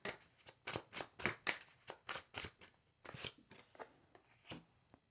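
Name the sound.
shuffling tarot cards and drawing a card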